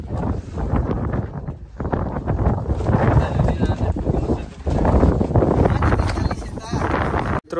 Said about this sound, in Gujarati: પવન જોરદાર છે મિત્રો, જબરજસ્ત પવન છે.